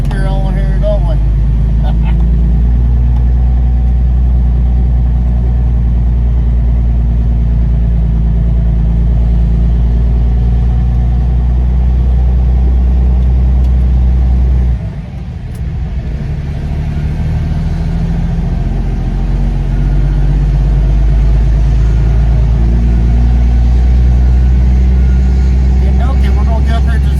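A Kenworth T600 hopper-bottom grain truck pulls away from a farm barn after loading, its diesel engine a loud, steady low rumble throughout with a brief dip midway, under light background noise.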